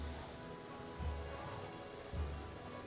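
Hailstorm pelting down in the colony-building game Stonehearth, a steady dense patter of ice on surfaces with two brief heavier thumping swells, no voices.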